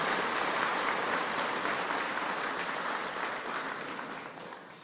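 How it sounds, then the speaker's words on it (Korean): Applause from the congregation at a Won Buddhist dharma service in Seoul. A thick, steady wash of many hands clapping together, close and full, slowly tapers toward the end with no voices over it. "그럼 박수 한번 치시죠."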